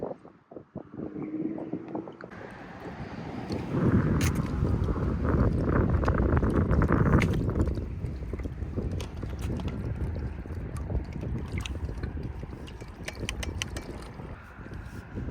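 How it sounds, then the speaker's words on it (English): A ProBoat Horizon RC tug boat is set into the water: a dense rush of splashing and rustling handling noise swells and then settles into scattered clicks and knocks, with no one talking. "Alright, so I just got the boat in the water"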